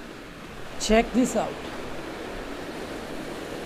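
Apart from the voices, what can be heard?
constant noise of water and waves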